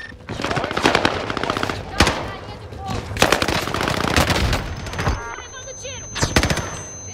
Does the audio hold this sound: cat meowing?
no